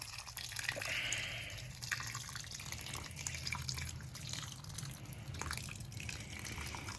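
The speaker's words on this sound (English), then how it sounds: "So now I'm going to water it." Water splashes and drips steadily into soil and a container nearby, a continuous trickle with scattered droplet taps, no talking.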